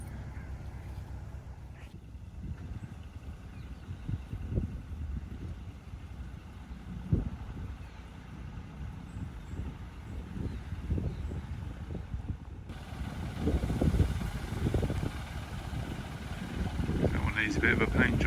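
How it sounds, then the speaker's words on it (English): A canal boat's low engine rumble chugs along steadily beneath wind noise on the Grand Union Canal, growing slightly louder as it draws near, with faint outdoor ambience around it. "There's a boat just coming up the canal."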